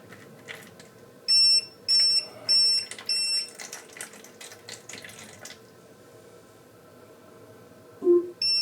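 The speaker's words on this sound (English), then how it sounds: "Water leak detected in kitchen." A smart water leak detector alarm in a kitchen sounds four short, piercing electronic beeps in a row over running water, followed by quieter clatter and a final beep.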